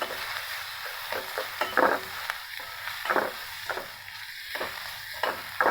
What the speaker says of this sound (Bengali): এখন মশলাটা আমি ভালো মতো ভেজে নেব তেলের মধ্যে